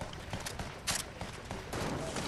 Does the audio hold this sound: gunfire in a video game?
yes